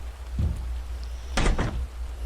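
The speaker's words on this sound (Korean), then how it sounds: "이 문소리가 지금 우리 내 침실이 문 열리는 소리 같아" A bedroom door opening in the horror game Phenomena, heard as a short low knock or thud followed by a louder, close creaking-and-clunking burst with a second brief scrape, over a steady low ambient hum.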